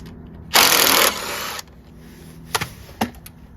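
An impact wrench or 10mm socket loosens the carburetor studs on a Briggs & Stratton Intek 6HP engine, with one loud, buzzing burst of about a second followed by a couple of short metallic clicks.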